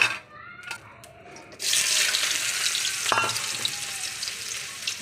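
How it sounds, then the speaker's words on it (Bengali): Onions drop into hot oil in a karai and burst into a loud, close sizzle that holds as a dense, steady crackle, following a few quiet clinks beforehand. "কড়াইতে আমি তেল দিয়ে দিয়েছি, এবার দেবো পেঁয়াজ"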